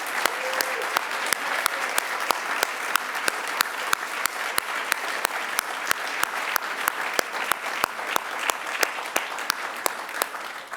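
An audience at a public debate keeps up steady applause for the debaters, with a sharp, close clap punching through on a regular beat and a faint murmur of voices in the mix.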